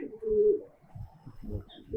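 Giribaz pigeons of the palla line coo in low, throaty rolls, one long coo near the start followed by softer bursts, with no talking.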